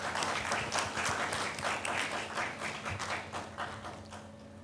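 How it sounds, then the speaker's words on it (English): A conference audience claps to welcome a keynote speaker, an even, sustained round of applause with no voices, moderately distant and soft. "Can we have a loud round of applause for him"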